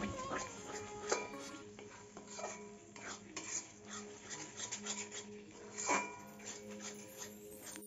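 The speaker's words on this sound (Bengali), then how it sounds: "এখন মশলাটা ভালো করে কষিয়ে নেব।" Spice paste for chicken biryani is stirred and fried in a pan, with rasping scrapes of a spoon against metal and irregular clinks, close and fairly quiet, along with some faint background sounds.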